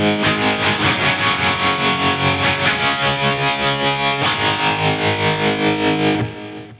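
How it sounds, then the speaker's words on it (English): Electric guitar through a Fractal Audio FM9 with a straight tremolo effect, distorted chords pulsing in steady, even volume throbs, loud and alone, then cut off near the end. "So the first one is a straight up tremolo."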